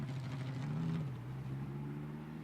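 A Lamborghini Super Trofeo race car at Watkins Glen, its engine refired and running rough, gives a steady, uneven drone that swells briefly and then settles.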